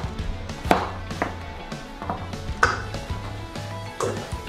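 A knife chops steadily on a cutting board, sharp knocks repeating at an unhurried, uneven pace, close up with no talking.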